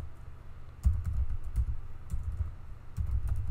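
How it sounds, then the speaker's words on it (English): Typing on a computer keyboard: several quick bursts of soft, muffled keystrokes with short pauses between them, close and fairly quiet against a faint room hum. "Okay, so let's type this command"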